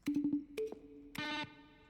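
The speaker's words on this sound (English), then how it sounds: "A section of the sounds used throughout the game when buttons are pressed." Button-press sounds from The Stanley Parable video game, each made from mixed keyboard strokes: a quick run of short clicky beeps, a pair of sharper blips, then a brighter sustained electronic tone, all close and clean.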